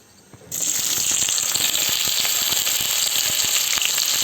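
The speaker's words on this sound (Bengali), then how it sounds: "আমি 2টি দেশি পেঁয়াজ কুচি করে নিয়েছি, সেটা দিয়ে দিচ্ছি" Two chopped local onions hit hot oil in a pan, setting off a sudden loud, steady sizzle that starts after a brief quiet moment and holds evenly throughout.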